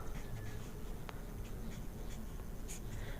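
Pen strokes writing out a class 10 math solution, a faint, steady scratching over a constant noisy background with no talking.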